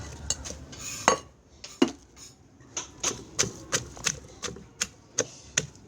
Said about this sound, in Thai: เดี๋ยวขอตัวตำพริกแป๊บหนึ่ง